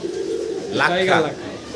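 A pigeon gives a short throaty coo from a pen of colourful pigeons for sale, close by and partly blended with a voice.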